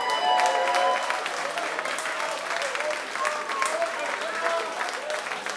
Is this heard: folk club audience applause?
yes